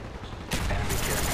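Gunfire in Call of Duty: Black Ops erupts suddenly after a brief quieter stretch, a loud, dense burst of rapid shots that fills the rest of the moment.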